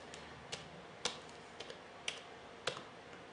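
Computer keyboard keys are pressed in a few separate, quiet clicks with short pauses between them, alone in a hushed room.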